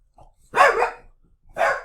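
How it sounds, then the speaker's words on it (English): A dog barks twice at close range, two loud separate barks with a short pause between them and no talking. "dog's barking"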